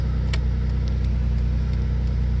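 A 2002 Nissan Pathfinder, started again after sitting for seven years, idles with a steady, even engine drone and a fine regular pulse, loud and close, with a few faint clicks and no talking.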